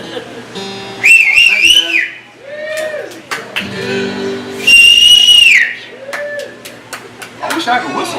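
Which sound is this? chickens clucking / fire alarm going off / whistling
whistling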